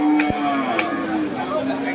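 Meat cattle at a cow market in Bangladesh, one long, steady low moo sounding close by, with market noise and faint voices in the background.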